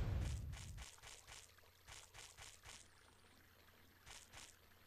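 Water pours to fill a bath in the Chulip video game, a faint soft trickling stream heard in repeated short bursts after a brief low rumble at the start.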